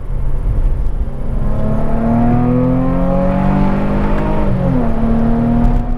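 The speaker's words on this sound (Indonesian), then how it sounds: "Gue buka sunroofnya dikit deh, panoramiknya nih, biar kedengeran suara knalpotnya." A car's exhaust note comes through a slightly opened panoramic sunroof from inside the cabin, a loud continuous engine drone that rises and falls in pitch as the car accelerates and shifts, no talking.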